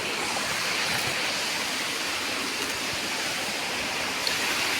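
A small forest waterfall, part of a cliff cascade, gives off a constant, even hiss of falling water, moderately loud and uninterrupted, with no talking over it.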